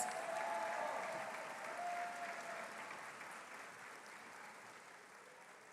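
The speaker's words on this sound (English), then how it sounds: "Let's give one more round of applause for Ms. Stamos' advisory class." A high school graduation audience at Westlake Charter claps for an advisory class, a fairly quiet, even wash of applause that slowly tapers off.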